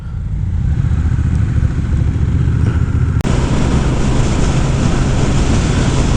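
Engine of a 2025 Honda Rebel 1100 DCT motorcycle while riding, a loud continuous low rumble mixed with wind roar, briefly cut by a sharp click midway.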